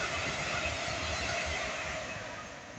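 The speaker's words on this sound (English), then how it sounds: "The next train to pass through Bletchley will be a London Northwestern Railway Class 350 bound for Crewe" London Northwestern Railway Class 350 train bound for Crewe passing through Bletchley on the West Coast Main Line, a loud, close, broadband roar of wheels and air that fades slightly toward the end.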